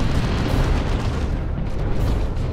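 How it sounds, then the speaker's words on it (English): Heavy cannon shot explosions in Dawn of War II: Retribution, a real-time strategy game, as a continuous loud rumbling roar of blasts and battle noise with no voices. "One more cannon shot."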